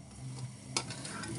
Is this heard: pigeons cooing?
no